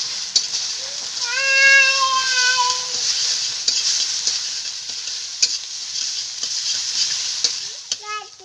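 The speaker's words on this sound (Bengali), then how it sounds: "তেল গরম হয়ে গেছে, এবার ফেটানো ডিম দুটোকে আমি ভেজে নেব।" Two beaten eggs sizzle steadily in hot oil in a kadai, a bright continuous hiss with occasional stirring clinks and a brief high whining tone early on.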